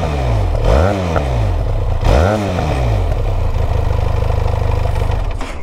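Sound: Benelli TRK 502 motorcycle exhaust

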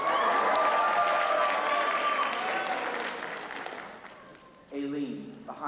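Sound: crowd applauding and cheering

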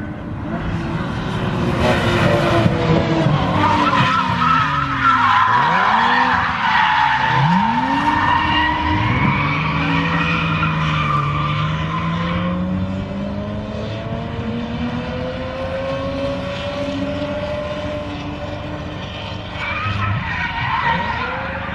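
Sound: two cars drifting at Snetterton circuit, tyre squeal

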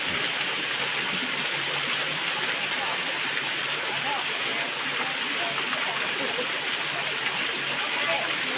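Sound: waterfall flowing

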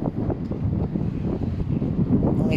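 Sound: wind blowing at a seaside reef

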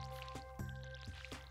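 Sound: watering a field with a watering can in Stardew Valley video game

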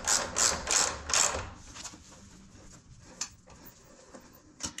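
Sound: screwing bolts back on with a ratchet, Can-Am Spyder F3

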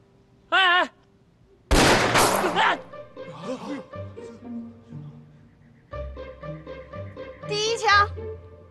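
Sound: gunshot in a kung fu film

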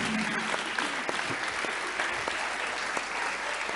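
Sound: audience applause for Matouš

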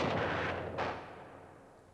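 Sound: gunfire in a Hollywood Iwo Jima war film

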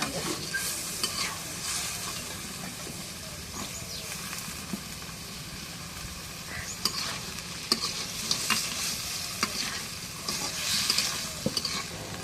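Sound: beef and potatoes being stir-fried in a pan

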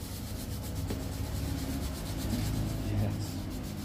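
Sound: scrubbing during an ASMR barber session

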